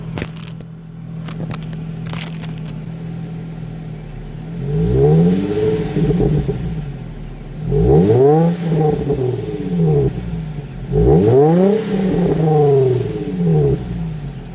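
An Infiniti G35 with 150,000 miles idles outside, then gives three separate revs, each rising and falling sharply, loud and close, with clicks and handling noises at the start.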